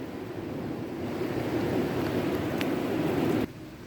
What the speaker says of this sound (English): what we're listening to here is water rushing, and we're swirling an awful lot on this fill